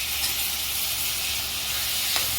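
Tomatoes and onions sauté in a pan for vada curry, producing a constant bright hissing sizzle like steam, steady and close, with one faint clink near the end and no talking.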